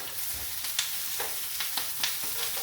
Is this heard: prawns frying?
yes